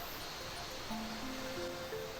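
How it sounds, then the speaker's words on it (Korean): Valley stream water flowing from Black Rock valley through the passage under a footbridge gives a steady, faint, even rush with no pauses and no voices. "검은돌 계곡에서 흘러내린 계곡물은 다리를 통과하여 아래로 흘러내리고 있어요"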